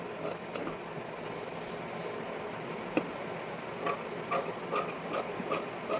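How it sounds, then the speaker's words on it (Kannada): Scissors cut through blouse fabric along marked lines, making a steady close rasping shear with several sharper crunching snips toward the end, quiet and without talk. "ನೋಡಿ ಈಗ ಕಟ್ ಮಾಡ್ಕೊಳ್ತಾ ಇದ್ದೀನಿ ನಾನು"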